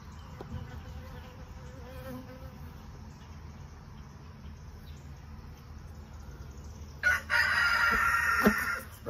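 A rooster crows loudly and close by in a beeyard, its call rising over a steady background hum of buzzing honeybees around the hives.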